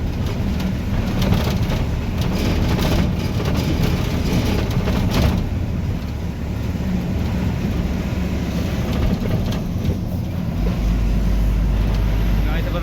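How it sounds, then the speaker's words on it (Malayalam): A car drives through a small village, giving a continuous rumble of engine and road noise with steady wind and tyre hiss heard from inside the vehicle for the whole stretch. "ചെറിയൊരു ഗ്രാമത്തിൻ്റെ അകത്തിലൂടെ പോകുന്നുണ്ട് കേട്ടോ നമ്മുടെ വണ്ടി"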